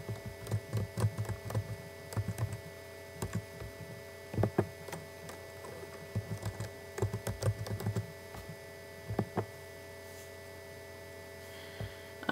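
Keys clatter on a computer keyboard in uneven bursts while a username and password are typed into a login page, close and fairly quiet over a steady mains hum, with short pauses between the runs of keystrokes.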